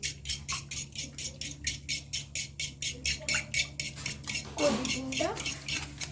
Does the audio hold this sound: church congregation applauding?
no